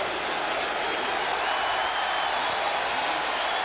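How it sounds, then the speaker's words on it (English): A large crowd at Yankee Stadium roars and applauds during a Red Sox game in 2009, a broad, sustained wash of cheering heard from a distance without break. "So Yankee Stadium is loud. Many in the crowd on their feet."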